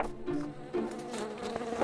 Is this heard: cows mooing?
no